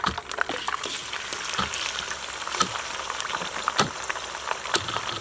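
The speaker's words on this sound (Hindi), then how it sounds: "सारे चिकन को इसी तरीके से फ्राई कर लेना है।" Chicken frying in a karahi pan, a steady crackling sizzle with scattered sharp pops and spits throughout, close and even, with no voices.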